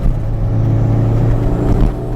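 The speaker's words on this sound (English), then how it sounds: "There we go, another smooth downshift." A Toyota MR2 Turbo engine revs loudly and close during a downshift on a mountain road, a steady low drone rising slightly near the end.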